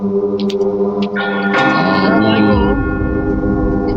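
A bell rings in a Roblox game, a few sharp chiming strikes followed by a long sustained tone with rich overtones, loud and close over a steady droning backdrop.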